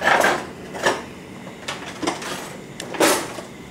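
A spoon stirs chocolate trifle ingredients in a pot over medium heat, with a few close clinks and scrapes against the metal at irregular intervals, loud and without talk.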